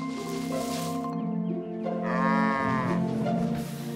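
Cartoon cows moo in a farm scene, several long tonal lowing calls overlapping in quick succession, loud and close with musical accompaniment underneath.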